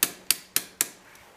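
Four sharp metallic taps ring out in an even rhythm as a small machinist wrench or hammer strikes a stuck glow plug on a 2005-2010 Jeep Grand Cherokee WK CRD diesel with the OM642 engine, each tap close and decaying quickly.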